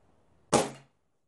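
A single sharp shot from an unmoderated springer air rifle with a shrouded barrel and no plenum insert, loud and close, with a brief ringing decay that fades within a few tenths of a second against near silence.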